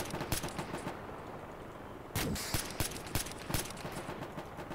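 Gunfire in the ARMA 2 military combat game: repeated sharp shots scattered through the clip, with a denser burst of several rounds in the second half, fairly loud over a constant battlefield background.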